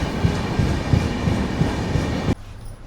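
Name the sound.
Tirumala Express 18522 train running from Gooty Junction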